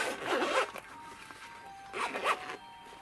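A zipper on a soft case for handheld game consoles such as the Kinhank K56, Powkiddy X55 and Switch Lite is pulled in two quick, close runs with a pause between, alone and clear.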